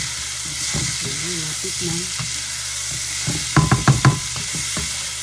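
A fish dish in sauce fries and is stirred in a pan, with a constant sizzle under a brief spoken phrase and a quick run of clattering utensil knocks near the end.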